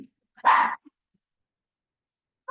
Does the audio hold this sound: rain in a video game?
no